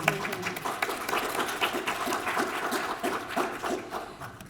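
Audience clapping at an award ceremony for an honoree family, a moderately quiet, continuous patter of many hands with a steady, even texture throughout.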